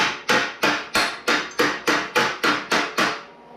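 Ten sharp hammer blows ring out at a steady rhythm, close and loud, as a Model A subrail is beaten flat on a bench, each strike decaying briefly before the next.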